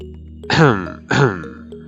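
Two rough throat-clearing grunts in quick succession, close and fairly loud, over a low steady hum.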